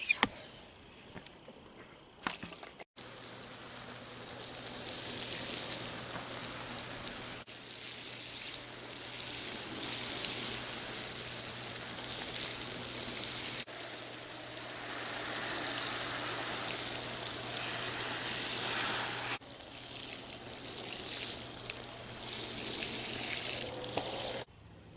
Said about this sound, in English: let's get to watering.